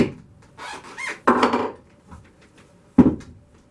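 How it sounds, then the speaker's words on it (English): A center punch strikes a spalted pecan wood blank in a few sharp, separated knocks, the louder hits near the start and one crisp rap later, with quiet handling noise between. "I'm just going to punch the centers."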